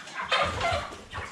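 Cobb 500 broiler chickens around forty days old in a coop, a few close, soft clucks and murmurs in quick succession over about a second.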